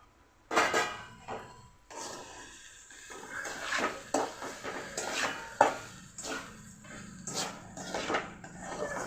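Soaked urad dal with salt and a pinch of turmeric is sautéed and stirred in a pan for Satara-style upit, giving repeated close scraping and clinking of a spoon against the pan in irregular bursts, with no talk.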